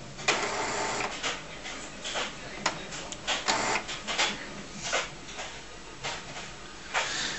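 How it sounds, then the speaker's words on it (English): Epson SX405 inkjet printer fitted with a continuous ink supply system runs its ink priming cycle, giving irregular mechanical whirs, clicks and carriage shuttles, close and moderately loud. "Even if you put normal Epson cartridges into this printer, it will still go through this procedure."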